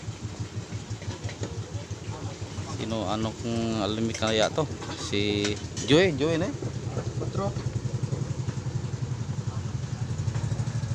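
A boat engine idles as a boat arrives at shore during stormy low-pressure weather, its low rhythmic chugging steady underneath while people talk nearby, then becoming more prominent toward the end.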